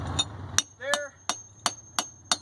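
Hammer striking a chisel against mortar in a brick wall, a series of about six sharp, evenly spaced metallic hits up close, with a short vocal sound between the early strikes.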